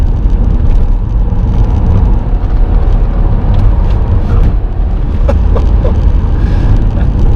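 Mk2 Seat Leon Cupra held in fourth gear on a bumpy road, a steady loud engine and road drone filling the cabin throughout with no talk.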